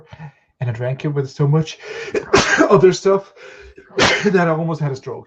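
A single sharp sneeze bursts out in the middle of one person's continuous talking, close and loud.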